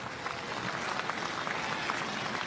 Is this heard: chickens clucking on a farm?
no